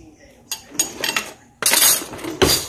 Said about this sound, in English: now it's stirring time